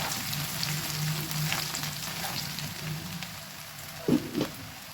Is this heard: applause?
no